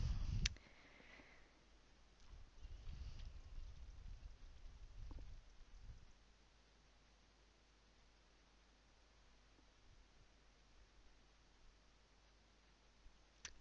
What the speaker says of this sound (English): it's raining outside and there are cars going past.